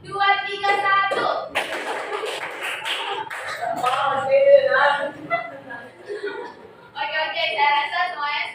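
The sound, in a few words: children clapping hands in a clapping game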